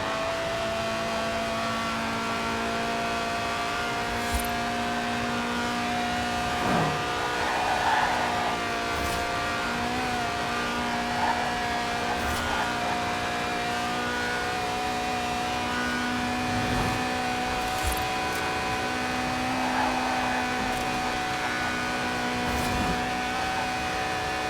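In Forza Horizon 4, a Lotus weighing under 700 kg, with a 190-horsepower 1.8-litre engine that revs to 8,000 RPM, drones steadily. Its pitch shifts gently and it swells slightly under light revving, with no talk.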